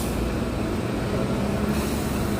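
A New York City train passing on a street, producing a steady, loud broadband rumble and rattle that holds evenly throughout with no voices.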